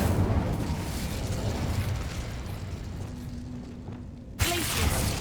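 Incendio fire spell cast in Hogwarts Legacy, a roaring whoosh of flame that holds steady for several seconds, dips, then flares again with a sudden burst near the end.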